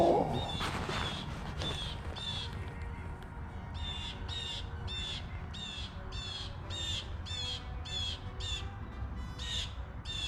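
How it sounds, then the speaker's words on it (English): A hawk and another bird squawk while fighting in the air outdoors, a run of harsh, evenly spaced calls repeating about a dozen times at moderate distance over steady wind and water noise. "There's a hawk attacking a bird."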